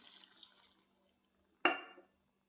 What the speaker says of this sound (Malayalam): ചൂടുവെള്ളം ഒഴിച്ചു കൊടുക്കണം